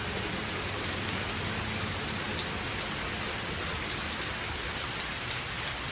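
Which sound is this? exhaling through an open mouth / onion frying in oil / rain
rain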